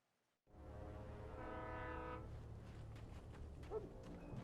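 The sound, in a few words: train horn in video game Alan Wake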